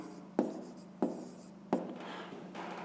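A pen writes by hand during a fifth-grade math exercise, giving three distinct scratchy strokes at a steady pace, close and quiet, with no talk.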